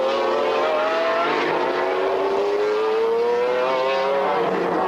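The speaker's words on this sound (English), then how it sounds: "passing in the Freisinger Porsche" A Freisinger Porsche GT race car sweeps past on a track during a 1995 Jerez GT race, its high engine note rising and shifting through gears, loud and continuous over roaring ambient noise.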